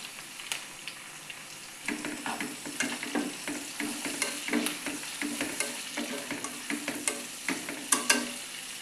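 Green chillies fry in a pan with tomato and are stirred briskly, producing a soft sizzle beneath a steady run of rhythmic spoon scrapes and clinks.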